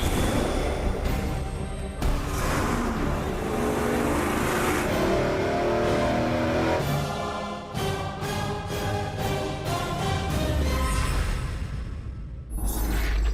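Boosted inline six-cylinder engine on a dyno, roaring loud and sustained as it revs up and holds high, with sharp breaks and gear-like shifts cutting the drone before it drops off near the end.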